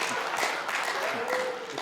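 A brief burst of audience clapping rings out at a Hindi comedy poetry gathering, a short dense patter that quickly gives way to a performer's voice.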